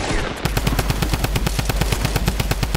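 Rapid automatic gunfire from the video game Fortnite, a dense, loud stream of evenly spaced shots running without pause the whole time, with a brief opening burst before the steady rattle begins.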